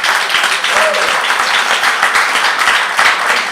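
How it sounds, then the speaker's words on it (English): Crowd applause at a community action rally, a steady wash of clapping at close-to-moderate distance, with voices mixed in. "You can clap for that."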